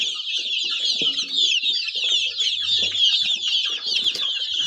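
Australorp chicks about 1.5 months old cheep and peep constantly in a busy flock, high chirps overlapping nonstop with a few soft clucks and faint rustling.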